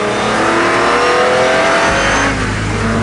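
A Ferrari 330 race car accelerates hard, its engine roaring loud and close with a steady rising rev, then shifting into a deeper, fuller tone near the end.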